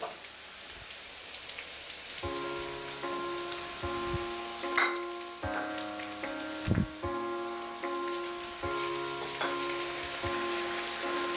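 Turmeric powder and ginger garlic paste sizzle steadily in a pan with softened onions for Indian moong dal curry, a continuous close hiss broken by faint stirring clinks, with no voices.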